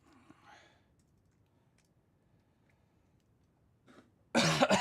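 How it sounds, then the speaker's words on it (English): Several coughs from a person working at a desk on a faulty Fatshark Dominator HD goggle repair, a few faint ones scattered through quiet, then a loud close burst at the end with light keyboard-like clicks. "Pardon my coughing"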